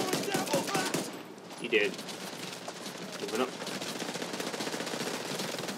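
Rapid automatic gunfire in the shooter Tom Clancy's The Division 2, in repeated bursts with crackling shots, while someone talks briefly over the shooting.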